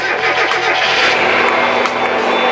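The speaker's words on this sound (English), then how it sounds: "I'm gonna start the car so it doesn't go backwards into the exhaust" A Mazda Miata engine starting and settling into a steady, loud idle, close by, with a brief rise in revs partway through and no talking.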